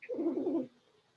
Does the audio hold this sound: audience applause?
no